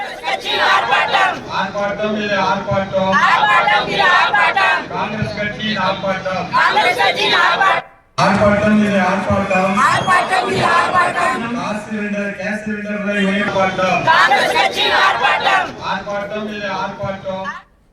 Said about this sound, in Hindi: कांग्रेस ने तमिलनाडु में इसको लेकर विरोध प्रदर्शन भी किया है